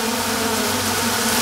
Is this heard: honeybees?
yes